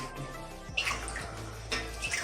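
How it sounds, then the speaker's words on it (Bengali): Rinsed skunk vine leaves drain in a strainer, water splashing and trickling steadily with a couple of louder gushes, close and alone. "এবার আমি ছেঁকে নেবো ভালো করে জলটা ঝরতে দেবো"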